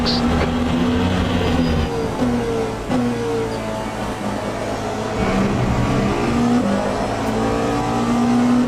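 V6 race car engine in Le Mans Ultimate, a loud droning tone that rises and drops through gear shifts and varying throttle, continuous and close.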